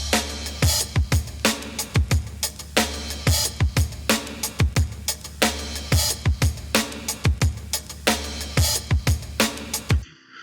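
A chopped drum break looped in FL Studio and parallel-processed for a beat: punchy kicks and crisp snares repeat in a tight, steady groove, loud and up front, ending suddenly.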